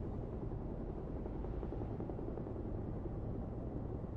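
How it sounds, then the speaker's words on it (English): A helicopter flies in the video game Beyond: Two Souls, a steady low, dense rotor and engine roar that holds constant throughout with no talk over it. "Boss sends his own private helicopter to get an agent back."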